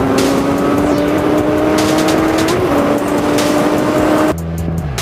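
Kawasaki Ninja 1000 ABS motorcycle on Pirelli Angel GT tyres cruising on the highway, a loud steady engine drone with strong wind rush that holds level before suddenly dropping away near the end.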